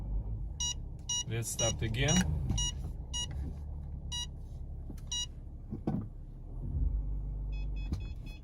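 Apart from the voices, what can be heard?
car parking sensor beeping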